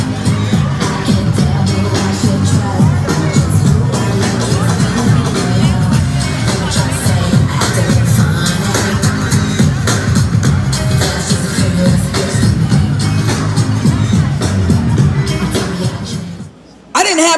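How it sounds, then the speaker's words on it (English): A hyped crowd of students in a school hall, a dense continuous roar of cheering, whoops and babble that stays loud throughout before cutting off abruptly near the end. "the crowd back there is hyped"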